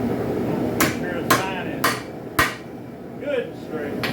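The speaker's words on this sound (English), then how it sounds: "That's a little tap with the hammer" A hammer strikes a forged spike knife blade on an anvil, giving sharp metallic clangs spaced about half a second apart, four in a row, then a pause and one more strike, each ringing briefly.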